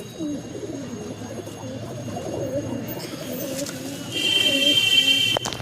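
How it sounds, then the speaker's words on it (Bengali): Male pigeons kept for racing coo repeatedly in a loft, a soft, rolling, throaty cooing that continues throughout at close range, joined near the end by a faint electronic buzz. "এইগুলো নর পায়রা।"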